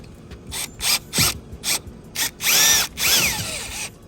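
A drill bores pilot holes for fender mounts on a Sea-Doo Apex RXP-X 300, with short whirring bursts and a couple of longer pulls as the bit bites, close and clear and with no talking.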